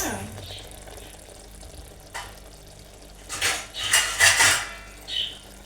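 A metal lid is set onto a pot of brinjal (eggplant) curry with ginger and green chilli, giving a few clattering clanks of metal on metal, loudest near the end, close and fairly quiet.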